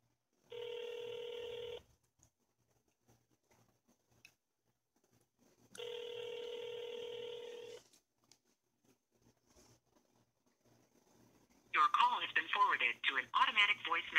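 A new iPhone makes an outgoing call. Two long, steady ringback tones sound several seconds apart over near silence, and then a voice comes through the phone line.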